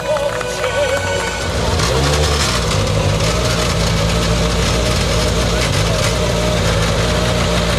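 Several rally cars idle together at a tourist harbour during a rally prize-giving, a steady low engine rumble running throughout with a voice speaking over it.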